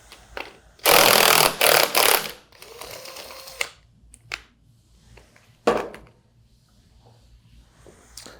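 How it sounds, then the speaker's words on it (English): Impact wrench removing the impeller nut on a 200 series pump, firing in a loud rattling hammer burst of about a second and a half, followed by shorter quieter bursts and a final sharp rattle amid tool clinks. "Remove your impeller nut using an impact."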